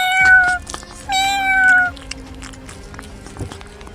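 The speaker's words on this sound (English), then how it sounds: "Cat." A domestic cat meows twice in close succession, each call a clear, rising-then-falling cry, heard alone and fairly close.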